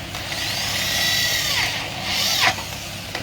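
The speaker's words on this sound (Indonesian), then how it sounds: "di bawah udah ada tim saya satu lagi, tunjukin ya, ngebor lagi ya" A power drill bores holes while a tarp is fitted to a floating raft, its whine rising and falling in two bursts ending with a sharp catch, close and loud over a low background hum.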